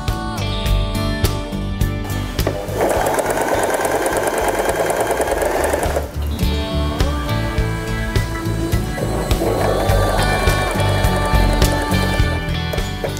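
A Janome 3016 sewing machine stitches fabric in two fast runs, a loud rhythmic mechanical whir and clatter from close by, separated by a short pause and trailing off into slower stops.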